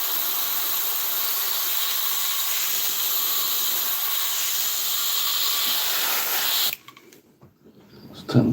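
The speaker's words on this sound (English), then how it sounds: "turn the pressure down on the airbrush" A hobby airbrush blowing pressurized air while a 1/48 scale model aircraft kit is being painted, a steady, loud hiss for several seconds that stops abruptly, followed by faint handling noises.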